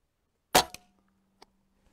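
A Walther Reign airgun fired on an outdoor range at an airgun expo, one sharp close crack followed by a brief ringing tail and a couple of faint clicks.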